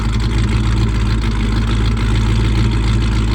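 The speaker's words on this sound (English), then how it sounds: "what it sounds like open" A Fox Body Mustang idles with its Valvetronic exhaust cutout open, a loud, deep, steady rumble with a throbbing low pulse close to the tailpipe.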